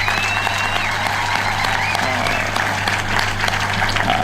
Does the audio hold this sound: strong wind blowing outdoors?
no